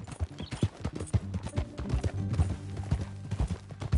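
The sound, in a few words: horse clip-clop hooves in video game Red Dead Redemption 2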